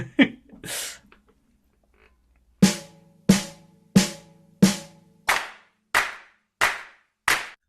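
Hands clap a steady beat of eight sharp, evenly spaced claps, close and clear, after a few seconds of faint murmur and quiet, during a beginner rhythm-reading lesson.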